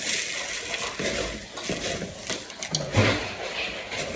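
Dried garlic and other dry ingredients, including clover flowers, mixed together in a bowl: soft crunchy rustling and scraping with occasional light clinks of a utensil against the bowl, close and fairly quiet.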